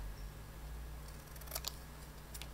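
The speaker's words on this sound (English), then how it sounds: "so I just took a pair of scissors like this" Scissors snip a paper birthday stamp image in a few quiet, crisp cuts against low background hum, close to the microphone.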